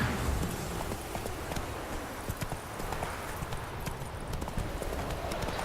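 Horse hooves clip-clopping in a steady galloping rhythm in the video game The Witcher III, close and continuous against a broad noisy background, with no speech.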